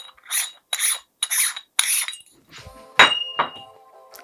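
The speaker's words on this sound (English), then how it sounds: "You have to unscrew and unscrew and unscrew." An accessory grip is unscrewed from a Sony RX100/ZV-1 compact camera in four short, rhythmic rasping twists, followed by a few metallic clinks and rubbing sounds, close and quiet.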